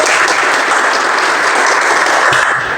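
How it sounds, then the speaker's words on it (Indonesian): A class of schoolchildren claps together in a classroom, loud dense continuous applause lasting a few seconds before fading slightly at the end. "Tepuk tangan dulu."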